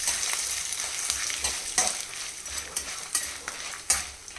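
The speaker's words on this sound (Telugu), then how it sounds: "ఒక 25 మిరపకాయలను ఈ నూనెలో వేయించుకోవాలి" About 25 dried red chillies fry in oil in a pan for a curry leaf powder, giving a steady bright sizzle punctuated by soft stirring scrapes and clinks, close and alone without talk.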